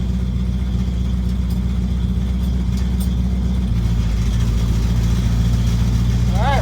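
A Chevy Nova with a rebuilt TH400 transmission rolling in reverse, its engine running with a steady, loud, close rumble that deepens partway through.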